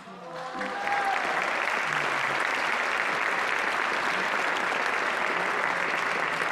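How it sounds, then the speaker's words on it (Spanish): Audience at the National Prize for Arts and Literature ceremony in the Palacio de Bellas Artes breaks into strong, sustained applause that swells within the first second and holds steady, loud and dense. "Para quienes les pedimos un muy fuerte aplauso."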